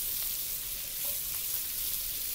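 Hilsa fish fries in hot oil with a dense, continuous sizzle and faint crackles, close and steady throughout.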